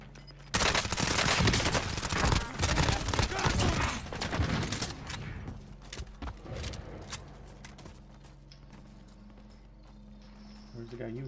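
Rapid bursts of video game gunfire, dense automatic shots crackling close and loud for several seconds, then thinning to scattered distant pops with players talking over it.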